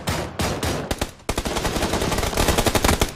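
Rapid automatic gunfire in a Predator tournament video game, dense bursts of close, loud shots that break off briefly and then resume as a sustained rattling volley.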